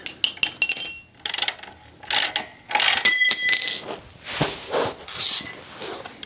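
Metallic clicks, ratcheting and tool clatter from loosening and removing a brake adapter bracket on a KTM motorcycle during a rear brake install, in short close bursts with pauses between them and no talk.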